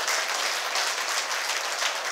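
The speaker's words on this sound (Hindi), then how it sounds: "जोरदार ताली।" Loud, dense applause from an audience at a quiz segment in a Buddhist vihara in Nagpur, steady and unbroken for about two seconds with no talk over it.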